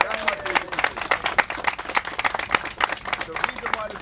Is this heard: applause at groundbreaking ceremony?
yes